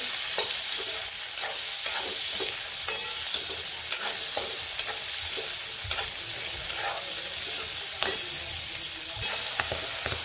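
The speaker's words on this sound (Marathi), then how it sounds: "आता याच्यामध्येच आपण मटार टाकणार आहे। आता याला पण परतून घेऊ।" Potatoes and peas sautéing in a hot pan, a continuous bright sizzle with frequent light scrapes and taps of a spatula stirring, close and steady with no talking.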